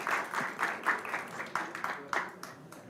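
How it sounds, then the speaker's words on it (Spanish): Applause from an audience at an academic research-group event, a few seconds of scattered claps with distinct individual hits, fairly close and moderate in level. "les vamos a dar un fuerte aplauso a los compañeros"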